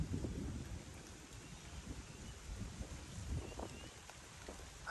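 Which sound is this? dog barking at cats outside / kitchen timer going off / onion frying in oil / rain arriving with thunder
rain arriving with thunder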